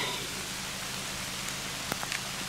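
Rain falls steadily on a road where box turtles are out, a soft even hiss with a few scattered drip ticks, heard at moderate distance.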